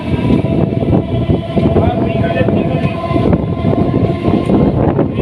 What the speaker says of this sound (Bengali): এখন উলুবেড়িয়া থেকে ছেড়ে দিল ট্রেনটা